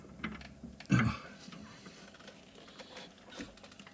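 A wrench tightens the wheel hub bolts on a Kia Sorento, with one sharp metallic clunk near the start followed by faint, sparse mechanical ticks in a quiet workshop.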